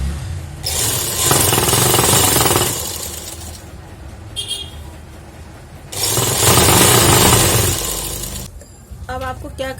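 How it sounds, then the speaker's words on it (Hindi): An electric sewing machine stitches the seam of an umbrella skirt, whirring loudly in two long continuous runs separated by a quieter pause, with a brief voice near the end. "दूसरी साइड भी इसी तरह से सिलाई लगा लेते हैं"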